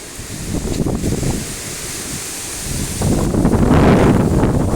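Strong wind roars and gusts against the microphone outdoors in a vegetable garden, surging louder toward the end in a rough, continuous rumble without speech.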